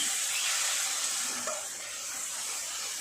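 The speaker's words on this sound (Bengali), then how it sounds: "মশলার বাটি ধোয়া অল্প একটু জল দেবো, দিয়ে মশলাটা সুন্দর করে কষিয়ে নেব" Spice paste for a prawn curry sizzles steadily in a pan with a little water added, a continuous broad hiss holding at an even level throughout with no voices.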